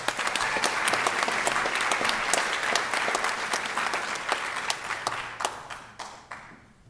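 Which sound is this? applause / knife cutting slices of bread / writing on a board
applause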